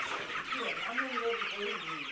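Chickens cluck in a continuous chattering murmur on a poultry farm holding about a thousand birds, faint and steady throughout with no clear voices.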